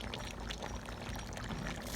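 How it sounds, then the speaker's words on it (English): Water is poured into a stew pot of mixed meats, a steady close splashing pour with a faint low hum beneath, no talk. "We're going to go ahead and pour a little bit more water back in again and cover it back down."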